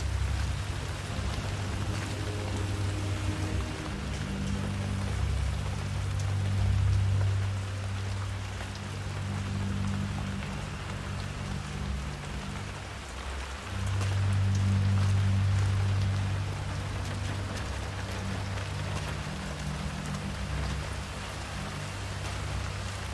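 Rain falling in the video game Hitman 3, a steady hiss of rainfall over a low droning hum that swells and fades a couple of times, with no speech heard.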